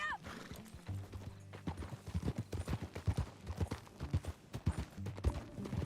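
Horse hooves clip-clopping in Red Dead Redemption 2 in a brisk, irregular rhythm, fairly quiet and close, with a short tonal whinny-like sound at the very start.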